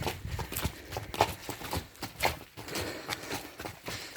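Hooves clip-clop on hard ground at a steady walking pace, two mares and a filly close by, with faint voices and outdoor noise behind.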